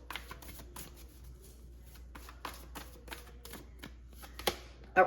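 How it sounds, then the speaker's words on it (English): Tarot cards are riffled and shuffled in quick, soft bursts of flicking and tapping, close by and fairly quiet, with no talking. "Let's get a good shuffle."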